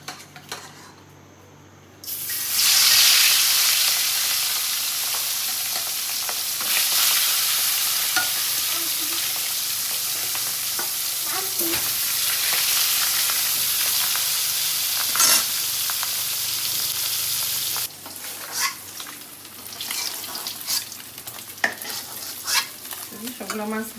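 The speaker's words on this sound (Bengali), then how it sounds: "কড়াই গরম হয়ে গেছে, এখন মাছগুলো ভাজা নেই।" Rui fish frying in hot oil in a wok, a loud, steady close-up sizzle that holds for most of the stretch, with occasional scrapes and clinks of utensils toward the end.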